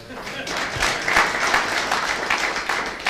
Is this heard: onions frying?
no